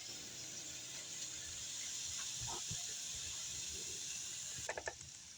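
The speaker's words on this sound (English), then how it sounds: "we're going to saute these on high until the onions start to turn a little color and the peppers start to cook" Onions and peppers sauté over high heat, giving a steady, soft hiss with a few faint clicks and taps near the end.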